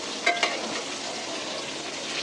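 Fish sizzling in plenty of hot oil in a wok, a steady dense frying hiss with a couple of sharp spatters early on, close and loud with no talk.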